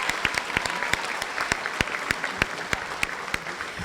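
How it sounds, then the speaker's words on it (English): Applause fills the room at a school team recognition night, steady crowd clapping with sharp individual claps standing out near the listener. "So a big round of applause for all of them."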